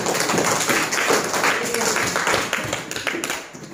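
A classroom group claps together in a dense, continuous wash of hand claps that holds steady, then thins and fades toward the end.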